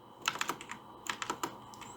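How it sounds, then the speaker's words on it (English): Typing a terminal command on a computer keyboard, crisp close key clicks in two quick bursts separated by a short pause, with no other sound. "You can do that just by typing pip install Google"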